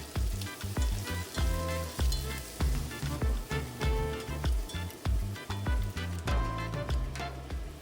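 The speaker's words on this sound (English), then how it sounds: "I heat some oil and saute the onions." Onions sautéing in hot oil for a beef and okra stew, a steady sizzle broken by rhythmic stirring clicks and scrapes of a utensil against the pan, close and clear with no talking.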